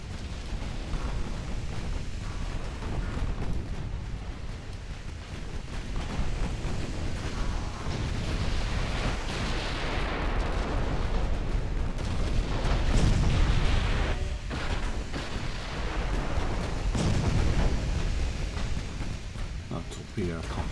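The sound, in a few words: naval guns firing in the video game Ultimate Admiral Dreadnoughts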